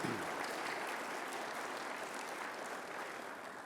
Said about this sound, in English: Let's give our winners another round of applause.